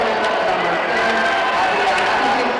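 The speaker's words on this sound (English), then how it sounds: "A lot of cheers from the Slovak crowd here." A Slovak crowd fills a ball hockey arena at an under-18 world championship with loud, sustained cheering and dense crowd roar, while a commentator talks over it.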